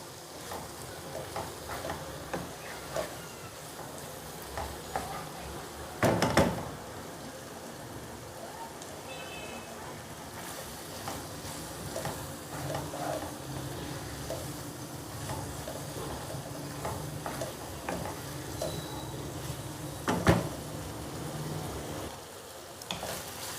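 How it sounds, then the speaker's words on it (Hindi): Minced keema with capsicum frying in a pan, giving a continuous close sizzle with occasional louder stirring scrapes and clatters; no speech over it. "अब हम इस स्टेज पे इसकी भुनाई करेंगे ताकि इसकी कीमे की स्मेल जो है वो अच्छी तरह ख़त्म हो जाए।"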